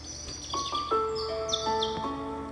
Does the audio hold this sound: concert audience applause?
no